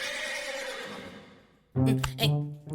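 A horse whinnies loudly and close up, a sharp rising neigh breaking into a shaky, quavering call after a fading background hum.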